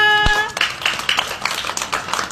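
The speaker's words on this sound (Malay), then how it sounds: "Tepuk tangan semua." Schoolchildren clap their hands together after a classmate answers a sum, a short scattered burst of light claps following a brief tonal voice at the start.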